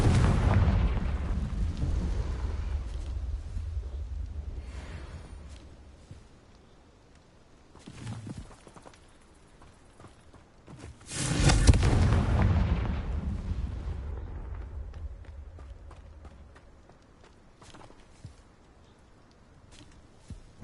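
A Confringo blasting spell in a Harry Potter video game sets off booming explosions, one loud burst at the start and a second big blast midway, each trailing into a long rumbling decay.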